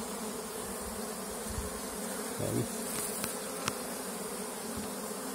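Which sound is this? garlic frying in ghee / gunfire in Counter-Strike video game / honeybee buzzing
honeybee buzzing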